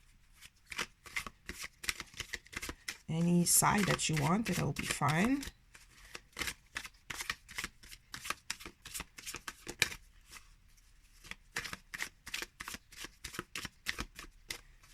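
Tarot cards are riffled and shuffled in quick, crisp bursts of rapid flicking, close up, with a voice speaking briefly partway through.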